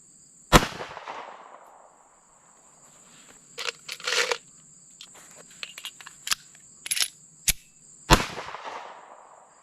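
Compact pistols, a Sig P365 X Macro with a compensator and a Glock 43X, fire two loud, sharp shots with ringing tails several seconds apart. Clicks, handling rattles and a faint steady tone fill the gap between them.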